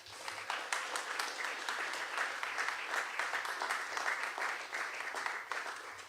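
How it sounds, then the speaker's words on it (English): A crowd at an awards ceremony applauds steadily and fairly loudly for several seconds, a dense wash of clapping with no voices over it, tapering slightly at the end. "Let's give them a round of applause."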